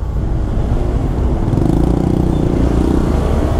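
A motorcycle with a broken exhaust runs along a busy road in Canggu, Bali, a loud continuous rough engine roar close by with traffic rumble beneath, no voices.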